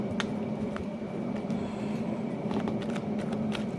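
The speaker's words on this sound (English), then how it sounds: "I'm still shuffling. I didn't look at the cards." Soft, continuous riffling of cards being shuffled, with faint papery flicks over a steady background hum.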